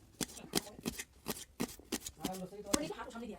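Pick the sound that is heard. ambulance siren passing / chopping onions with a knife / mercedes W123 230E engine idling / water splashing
chopping onions with a knife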